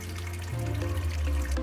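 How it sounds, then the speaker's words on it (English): Aquarium tank water pours into plastic tubs during a tank breakdown, a steady close splashing, gurgling fill that deepens in tone partway through as the level rises, with no talk. "as I'm filling up these tubs with this tank water"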